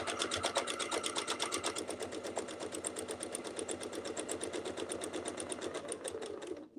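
Sewing machine stitching along a clamshell quilting template, a steady rapid mechanical chatter running continuously for several seconds, close and alone, then stopping at the end.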